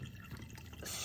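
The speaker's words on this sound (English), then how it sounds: "strain them now to get that water off" Soaked raisins being strained, with water dripping and trickling steadily into a sink, ending in a brief louder gush.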